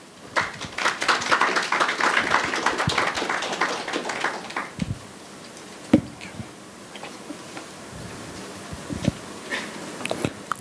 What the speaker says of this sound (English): A warm round of applause for him.